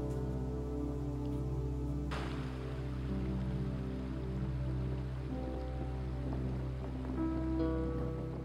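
Heavy rain pours steadily in the Provence countryside, a dense, continuous wash of drumming on surfaces that stays loud and unbroken throughout, with no voices.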